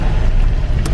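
Continuous low rumble of a taxi moving through Kathmandu rush-hour traffic, a steady road and engine drone heard from inside the car with no talking.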